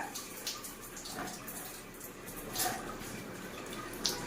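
Water runs from a tap in a steady, close rush, with a few louder splashes and drips breaking through the constant flow.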